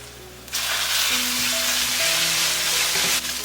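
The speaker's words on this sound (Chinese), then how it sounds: "炒香了之后加入肉末" Minced meat hits hot oil with garlic slices in a wok and breaks into loud, close, continuous sizzling, with faint stirring and a few soft tonal hums underneath.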